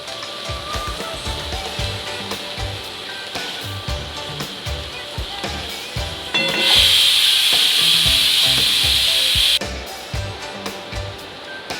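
Masala spices roasting in a pan for a kaju (cashew) curry, giving a steady broadband hiss with scattered light clatter, rising to a louder, brighter sizzle midway before settling back.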